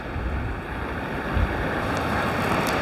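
Water rushes steadily over the rocks of Bells Rapids on the Swan River in hilly bushland near Perth. The broad, continuous roar is moderately loud, with some wind in the background and no voices.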